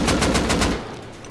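Rapid automatic gunfire in the survival video game Rust, a quick burst of about five evenly spaced shots that stops abruptly after under a second.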